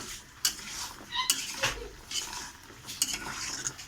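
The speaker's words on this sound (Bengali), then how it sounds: "এরকম নেড়ে নেড়ে এই রসটাকে এর গায়ে মেরে নিতে হবে" A spoon scrapes and knocks around a pan while sugar syrup is stirred to coat gur kathi sweets, giving soft sticky swishes and a few sharp metallic clinks at irregular intervals, fairly quiet and close.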